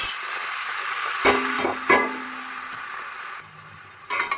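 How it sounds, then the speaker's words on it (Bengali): Bottle gourd pieces stir-fried in a hot pan, a steady close sizzle with a couple of scraping stirs partway through, then the frying briefly quietens before resuming. "এবার নাড়াচাড়া করে এটাকে ভাজা ভাজা করবো"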